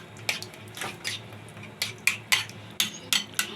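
Tikka masala is stirred into yogurt in a bowl, giving a series of soft wet squelches and light scrapes of a utensil that come in irregular strokes, quiet and close.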